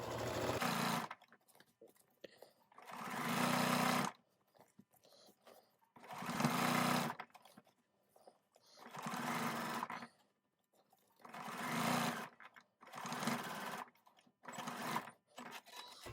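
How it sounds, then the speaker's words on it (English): A sewing machine top stitching a round fabric rice bag runs in short bursts of two to three seconds, about seven in all, with quiet pauses between, steady and close. "I'm doing approximately a 1/4 inch top stitching."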